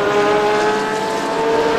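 Porsche GT3 race car engine in the Raceroom racing game, a loud sustained high-revving tone holding steady throughout, with no voices.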